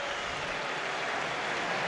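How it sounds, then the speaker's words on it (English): Stadium crowd applauding during a Spain versus Saudi Arabia football match, a steady, dense wash of clapping and cheering that stays loud and even throughout. "that gets a round of applause from the stadium as well"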